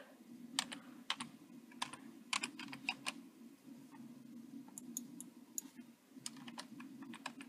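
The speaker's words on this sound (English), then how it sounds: "you type your new password" Someone types a new password on a computer keyboard: irregular bursts of crisp, close key clicks with short pauses between them, heard alone without talk.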